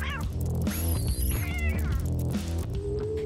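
A kitten meows repeatedly in close, clear calls, set against a dense, continuous musical backdrop.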